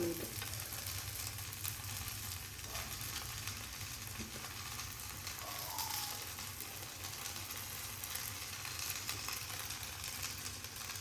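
Ponganalu batter fries in oil with a constant dense sizzle and crackle over a low hum, steady and close for the whole stretch, with no voices.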